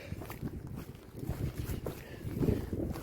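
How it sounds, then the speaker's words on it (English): Gusty cold wind on an Appalachian Trail hiking path buffets the microphone in uneven rumbling surges, close and fairly loud, with faint footstep-like thuds mixed in. "there's a cold wind coming up the trail right to my left shoulder and face"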